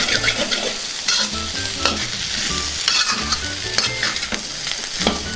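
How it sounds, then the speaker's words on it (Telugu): Taro root being stirred and fried with coriander in a pan, a steady close sizzle broken by repeated scraping and clinking strokes of the spoon throughout. "ఇప్పుడు ఒకసారి కలుపుకుందాం."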